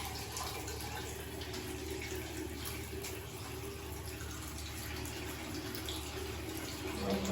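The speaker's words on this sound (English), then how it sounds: "So I'm going to be demonstrating the WHO recommended hand washing technique." Running tap water pours steadily into a sink during hand washing, a constant close hiss and splash holding even throughout.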